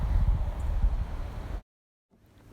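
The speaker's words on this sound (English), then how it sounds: "The only movement is wind in the backyard." Wind moves through backyard trees, a broad rustling wash that holds steady, drops to near silence, then returns faintly at the end.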